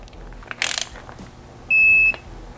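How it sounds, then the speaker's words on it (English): A torque wrench gives a single sustained electronic beep while Hemi engine bolts are torqued, preceded by a short burst of ratcheting clicks, close and fairly loud in a quiet workshop. "So I'm gonna go ahead and start torquing these down"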